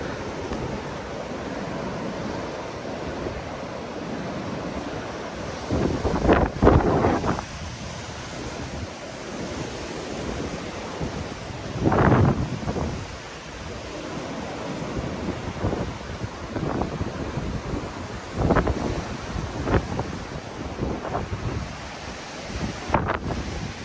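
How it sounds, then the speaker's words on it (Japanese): Sea waves wash onto the coast at Itoshima in strong wind. Loud wind buffets the microphone in repeated gusts over a continuous roar of surf. "これが海だよ。"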